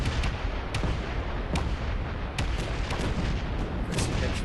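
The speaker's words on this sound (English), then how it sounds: "explosions everywhere" Turret fire in Space Engineers produces constant rumbling explosions, with sharp booming blasts breaking through the dense roar at irregular intervals.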